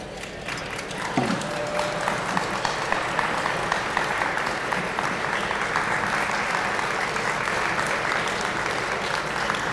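Sustained applause fills the room at an annual gala dinner, a broad steady wash of many hands clapping with crowd murmur, continuous and even for the whole stretch, with a brief tone near the start.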